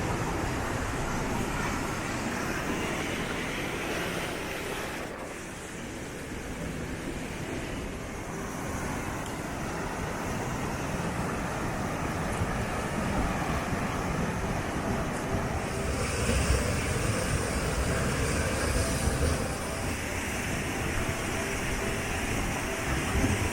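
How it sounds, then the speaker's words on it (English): Steady broadband rushing of a waterfall beside a footbridge in Hetch Hetchy, Yosemite, a continuous roar that holds at an even level and swells slightly near the end, with wind buffeting the microphone. "we just crossed this beautiful footbridge with beautiful waterfall"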